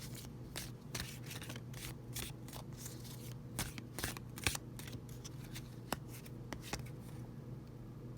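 Tarot cards being shuffled and drawn by hand close up, a quiet run of crisp irregular riffles, slaps and flicks of card stock.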